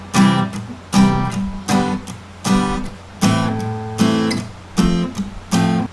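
Reggae strumming on a guitar, with short, choppy, muted chord strokes repeating in a steady offbeat rhythm, loud and close.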